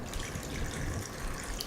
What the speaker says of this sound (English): And then you just fill it with water.